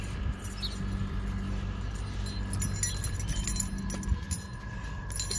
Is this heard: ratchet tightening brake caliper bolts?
no